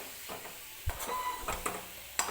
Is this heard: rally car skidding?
no